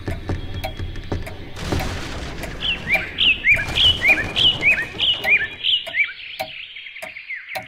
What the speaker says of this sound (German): Ein bisschen Vogelgezwitscher.